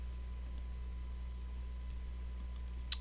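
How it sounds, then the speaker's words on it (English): A single computer keyboard key pressed, giving a few light, faint clicks over a steady low hum, with one sharper tap near the end. "I'm going to click on K."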